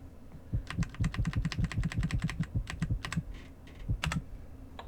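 Rapid computer keyboard key presses during play of the action game Blood Omen: Legacy of Kain, a steady run of close, crisp clicks with a short pause near the end before a final burst.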